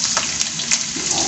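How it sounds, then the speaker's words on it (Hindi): Masala bhindi (lady finger) fries in a pan with a steady, close hiss and sizzle, crackling softly throughout with no talk over it. "ये देखिए ये थोड़ा सा फ्राई हो जाए"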